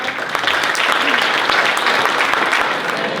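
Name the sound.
audience applause for the speakers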